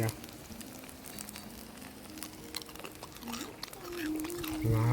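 Steady hissing sizzle of sisig on a hot plate at a cafe in Camiguin, Philippines, with voices and clinks in the background, growing slightly louder toward the end.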